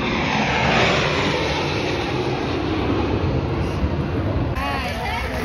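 A plane at the 2023 Chicago Air Show spins overhead, its aircraft engine a loud, steady roar that fills the whole stretch without a break.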